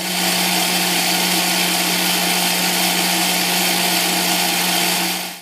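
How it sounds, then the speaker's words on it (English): An electric hand mixer beats egg whites into meringue for almond crispbread biscotti as sugar is gradually added, a loud, steady motor whir with a constant hum running unbroken for the whole stretch, with no talking. "we're going to gradually add our sugar whilst beating it, essentially turning it into a meringue"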